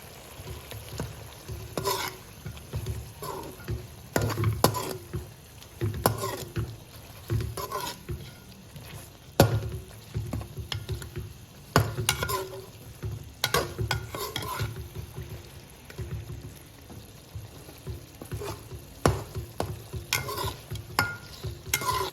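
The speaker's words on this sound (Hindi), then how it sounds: "अब इसमें पंजे डाल दें, इसको अच्छी तरह मिक्स कर लें" Chicken feet being stirred into frying masala in a pan, a steady sizzle under repeated scraping and clattering strokes of a spoon, close and continuous, with no one speaking.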